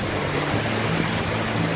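Rushing water at the Petrohué waterfalls in Chile, a steady, dense roar that holds at the same loudness throughout, with no voices over it.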